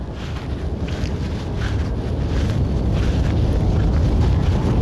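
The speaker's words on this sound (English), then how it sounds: "You can hear the reverse thrust." Landing airliner at Cleveland airport roars under reverse thrust, a broad, rumbling low-heavy wash that builds steadily louder through the clip, with wind buffeting the microphone.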